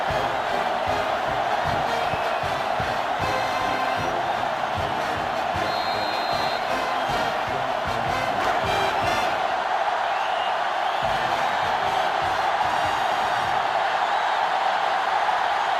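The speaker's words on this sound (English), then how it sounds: "So this crowd is making their presence felt." A stadium crowd roars continuously in NCAA Football 2005 during an overtime game between Florida and Penn State, a dense, loud wall of cheering that swells briefly and keeps going.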